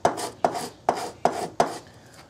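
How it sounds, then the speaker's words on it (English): Sandpaper worked by hand over a wooden handle for an antique tool, five evenly spaced rasping strokes close up, each starting with a sharp scuff and fading out. "Some sandpaper, do that by hand."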